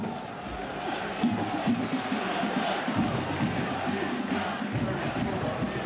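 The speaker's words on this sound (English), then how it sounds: "Sellout crowd at Byrd Stadium." Sellout crowd at Byrd Stadium roaring and cheering through a college football game, Clemson against Maryland, a dense and steady wall of voices with swells of louder shouting throughout.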